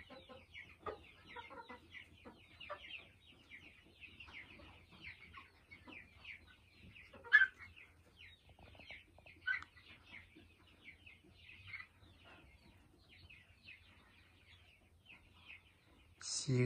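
Four-month-old Kuchinskaya Jubilee chickens cluck and chatter steadily in a flock, with scattered louder calls standing out over a low background hum.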